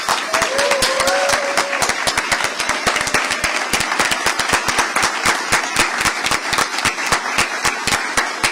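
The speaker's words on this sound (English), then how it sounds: "I want you to give a big round of applause to Dr. Janet Campbell as she comes." An audience gives a big round of applause at a South Carolina school report card event, dense loud clapping sustained throughout without a break.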